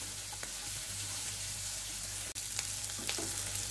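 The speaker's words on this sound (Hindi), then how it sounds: "जिंजर गार्लिक और ग्रीन चिली काजू सारे मसाला ऐड कर दिया। साथ में 2 मिनट और फ्राई कर लेती हूँ।" Onion, ginger, garlic, green chili and cashews frying together in a pan, giving a steady low sizzle with a few faint scrapes and clicks, close and alone with no talking.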